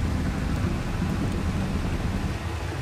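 Rain and thunder on a stormy night in the video game Far Cry 2, a steady heavy wash of rainfall with a low rumbling underneath, constant and fairly loud with no voices.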